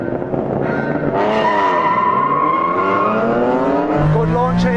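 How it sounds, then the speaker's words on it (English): A Toyota Supra and a Honda NSX launch off the line in a drag race, engines revving hard with rising pitch and tires squealing, loud and close throughout. "Good launch here."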